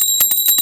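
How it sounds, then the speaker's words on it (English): A temple bell rings in a few quick, bright strikes with a sustained high metallic tone between them, close and fairly loud. "Ringing the temple bell."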